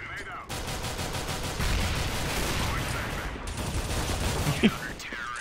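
Rapid automatic gunfire in an online multiplayer shooter game, dense bursts that run almost without a break for several seconds, loud and close, with players talking faintly underneath.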